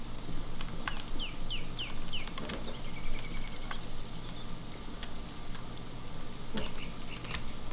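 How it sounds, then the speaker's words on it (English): In the game Morrowind Rebirth, a quick run of small descending bird chirps rises over a constant ambient hum, alongside scattered clicks of keyboard typing. "Do those horrible bird sounds replace the background sound?"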